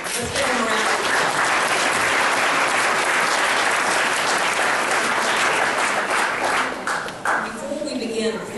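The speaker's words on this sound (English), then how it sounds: "let's give them a round of applause" Sustained, loud applause from a seated audience welcoming special guests at a meeting, a thick continuous roar of many hands that holds for several seconds, then tapers off, with a voice rising over it near the end.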